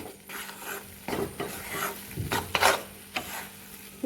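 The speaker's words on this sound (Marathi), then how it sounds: "कमी गॅसवर तुम्हाला साधारण आठ दहा मिनटं असं शिजवून घ्यायचं आहे" Maida flour mixture roasting in ghee over low heat while being stirred: steady soft sizzle with repeated scraping strokes of a spoon against the pan, close and moderately loud, no talking.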